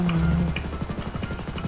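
A helicopter landing in the GTA 5 video game, with its rotor thumping in a fast, steady pulse under a loud engine drone.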